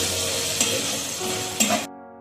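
Mutton curry spices with turmeric and pepper sizzle loudly in hot oil in a pan, with a couple of sharp scraping knocks as they are stirred, the sound ending abruptly.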